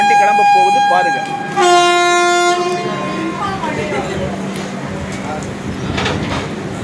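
A train pulls out of Vaitheeswaran Kovil station on a rainy day, opening with a loud, sustained horn blast, then settling into a low rolling rumble of the carriages as people talk nearby.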